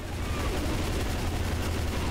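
Dense, continuous gunfire in the zombie shooter Left 4 Dead 2, loud rapid shots layered with chaotic game noise throughout.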